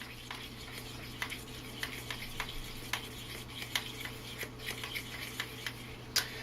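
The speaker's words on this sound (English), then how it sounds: "Mix it around. You have to fold the egg in." Seafood pancake batter with egg being stirred and folded, giving repeated soft wet clicks and scrapes in an irregular rhythm over a steady low hum, close and fairly quiet, with no talking.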